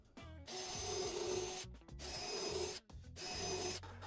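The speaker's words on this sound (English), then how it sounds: "We're gonna pre-drill" Three bursts of a drill pre-drilling wood for a patio chair, each lasting about a second and a half, with short pauses between them and a whirring, rasping grind.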